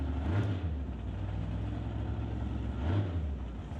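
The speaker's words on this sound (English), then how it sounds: "Purging the nitrous system as the big block Chevy for Dan Rodriguez, getting ready to bring it into the beams" Big block Chevy drag car idling at the staging lanes of a drag strip while its nitrous system is purged, a steady low engine rumble with two brief louder bursts.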